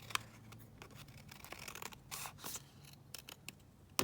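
Scissors snip across paper in a quiet indoor room while trimming a tatty top edge, giving a string of short, crisp cuts spread over a few seconds, close and fairly soft.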